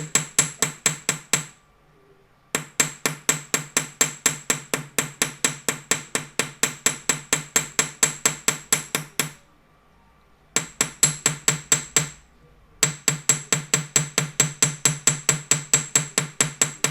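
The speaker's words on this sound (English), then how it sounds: "So all I'm going to do is hammer right the way around that curve." Rapid, regular hammer blows ring on metal while shaping a curve for a leaf necklace, in long runs with short pauses between, bright and close, dozens of strikes in a steady rhythm.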